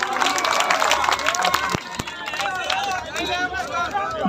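Audience at a dairy cricket program event in Dausa clapping, a dense crowd applause with babble and voices mixed in, a couple of sharp thumps near the middle.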